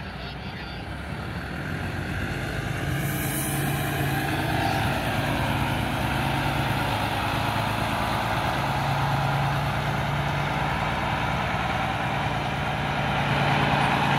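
Buses arriving and idling at the Curitiba bus station, a loud, continuous diesel engine rumble that swells slightly after the start and holds steady, with faint distant voices underneath.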